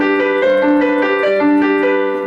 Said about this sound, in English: If I just play it like a robot, it sounds like this.